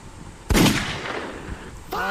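Gunfire in a battle royale video game fight near a damaged vehicle: a loud sharp shot followed by a decaying crack, a second fainter shot, then a brief tonal game sound at the end.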